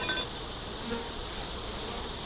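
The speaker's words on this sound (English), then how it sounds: "A lot of bees on it down here." Honey bees crawl over a honey and nectar frame pulled from a hive, giving off a steady, close, even buzzing hum that never breaks across the short stretch.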